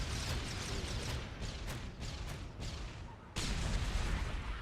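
Explosions and heavy weapon fire in the tank battle video game ExoTanks, a run of loud booming blasts with sharp onsets, then a dip and a sudden renewed loud burst.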